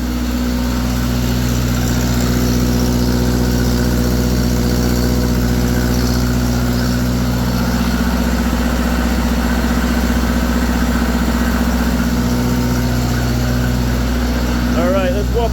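An Onan 15.0 JC generator, freshly refurbished, running under a load bank test with a steady loud engine drone and hum, rough in tone, continuous throughout.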